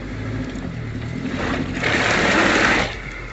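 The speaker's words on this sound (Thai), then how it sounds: "ล้อ จมไปครึ่งล้อนะ ล้อฟรีเลยนะ" An off-road vehicle sits with its wheels half sunk in deep mud and spinning, the engine droning steadily and then rising into a louder, rougher roar of churning for about a second before easing back.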